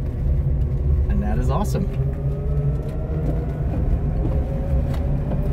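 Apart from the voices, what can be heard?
1963 Volkswagen Beetle converted to electric, driving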